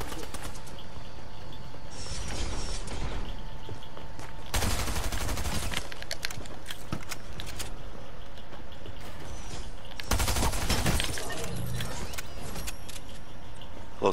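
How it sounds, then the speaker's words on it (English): Shotgun blasts ring out in a close-quarters fight in the video game Fortnite, two heavy booming bursts with a quieter stretch of ambient game sound between them. "Close quarters shotgun."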